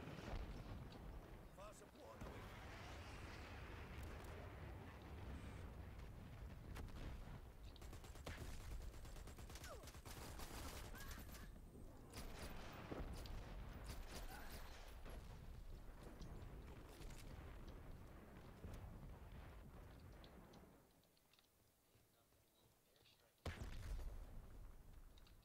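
Heavy, sustained barrage of explosions and gunfire from an airstrike in the shooter game Dirty Bomb, rumbling loudly for about twenty seconds before dropping off, with a final blast near the end and a player talking over it.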